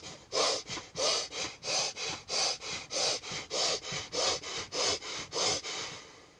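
A person takes a steady run of rapid, forceful breaths through the nose, about fourteen evenly spaced rushing puffs over a few seconds, close and clear with no talking, as part of a breathing exercise inside a camper van.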